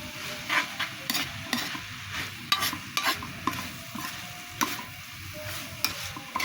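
An egg fries in a pan with string beans and eggplant, giving a continuous close sizzle broken by repeated sharp scraping strokes of a utensil stirring, with no talking.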